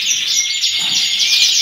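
Canaries sing in an aviary, a loud continuous stream of high trilling song with overlapping chirps close by and little else in the background.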